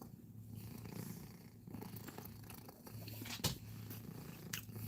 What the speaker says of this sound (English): You hearing the cat?